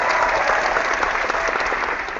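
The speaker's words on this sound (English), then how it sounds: "We could have a great clap." An applause sound effect from Google Hangouts: a dense, steady wash of many hands clapping for about two seconds, evenly loud throughout with no voices over it.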